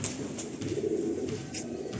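A pigeon gives a brief low coo, close and moderately loud over a steady background hum.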